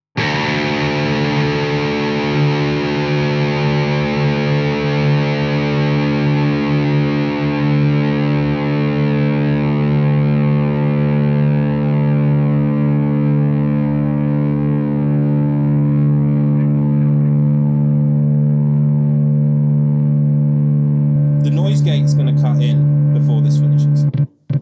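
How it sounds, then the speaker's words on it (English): A distorted electric guitar with an aluminium neck rings out through an Engl Inferno amp in one long held chord that sustains for over twenty seconds and slowly fades, with a brief burst of noise near the end. "it's just the sustain on these guitars is just ridiculous"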